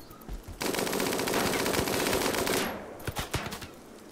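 Minigun fire from RimWorld rips out in one continuous, loud burst lasting about two seconds, then breaks into a few scattered separate shots as it trails off.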